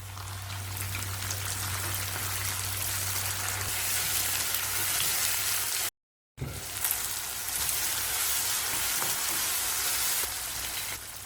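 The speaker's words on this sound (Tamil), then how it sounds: "தக்காளி சேர்த்து வதக்கலாம்." Onions and tomatoes sautéing in a pan for Chettinad chicken white kurma, a continuous loud hissing sizzle, broken by one short silent gap before resuming.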